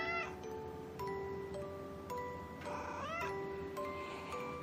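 A house cat, an ordinary brown tabby, gives a string of clear, close meows, each a short rising-and-falling call with a slightly longer wavering one midway, over a low steady room hum.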